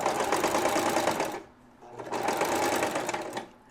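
Sewing machine stitching fabric with a grippy backing, a loud, close, steady mechanical whir in two bursts separated by a brief pause.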